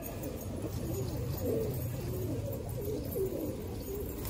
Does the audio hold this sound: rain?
no